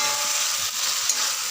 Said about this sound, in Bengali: এবার এর মধ্যে ভেজে রাখা আলুগুলো দিয়ে দিলাম। এবার এইটাকে খুব ভালো করে কষাতে হবে।